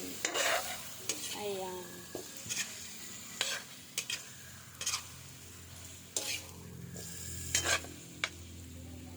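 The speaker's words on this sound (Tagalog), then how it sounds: "Haluin natin ng haluin." Chicken drumsticks, cooked for a pineapple recipe, are stirred as they fry in a pan: a soft, steady sizzle is broken by repeated scraping and clinking strokes of the utensil, with one brief word spoken.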